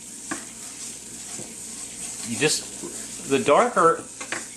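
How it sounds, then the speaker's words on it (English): A butter roux stirred in a pot as it cooks, giving a steady soft sizzle and scraping swirls that grow louder near the end, with a voice speaking briefly over it. "I'm going to keep stirring this"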